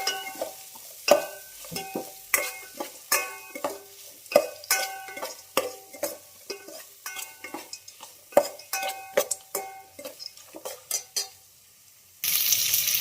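Onions and green chillies frying in oil in a pan, with a soft sizzle beneath frequent rhythmic scrapes and taps of a spoon stirring against the pot, close up, ending in a brief louder burst of hiss.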